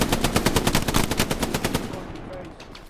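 Rhythmic bursts of machine gun fire in a Battle of Carentan combat scene, evenly spaced loud shots for about two seconds, then fading into quieter background noise.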